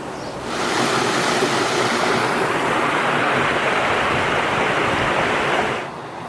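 Water waves wash in a steady, loud rushing surge that swells up, holds for several seconds and then drops away, with no voices over it.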